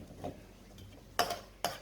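Dry spices go into hot oil and are stirred in a pan. Soft stirring and a faint sizzle lead into two sharp, close scrapes or knocks near the end of the short stretch.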